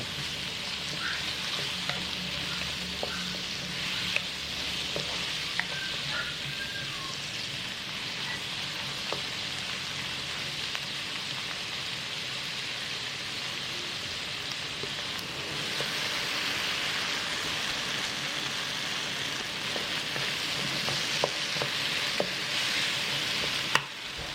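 Mung beans frying with onions in a pan, a steady close sizzle with crackling pops and intermittent stirring scrapes, continuous throughout with no talk.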